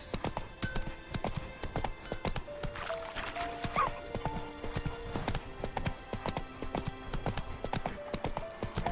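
A horse gallops in The Witcher 3: Wild Hunt, its rapid rhythmic hoofbeats steady and close throughout, with sustained game music tones underneath.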